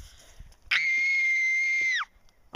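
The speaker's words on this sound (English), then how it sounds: "for the next short, we're gonna practice our screams" A single sustained, high-pitched human scream at a camping site lasts a little over a second, loud and close, with brief rustling before and after.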